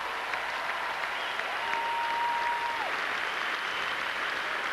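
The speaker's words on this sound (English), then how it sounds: "How about a wonderful round of applause for these 2 great champions?" Audience applause for two tennis champions at a tournament ceremony, a sustained even roar of clapping at moderate distance, with a faint tonal whistle or tone gliding through the middle.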